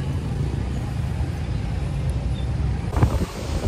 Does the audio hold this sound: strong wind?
yes